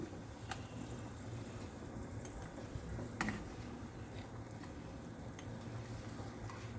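Cashews and raisins fry in ghee with a soft, steady sizzle and a few sharp clicks of a spoon against the pan, all fairly quiet and close.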